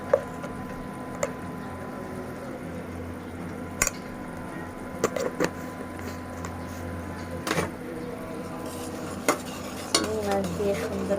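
Shrimp sauté in a pan with a low, wet sizzle while a utensil scrapes and taps against the metal in irregular strokes, close by, with a steady hum underneath.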